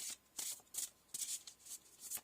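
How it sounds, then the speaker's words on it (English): Rapid riffling bursts of tarot cards being shuffled, several quick papery flurries in a row, close and fairly soft, with no talking. "I'm going to shuffle these cards"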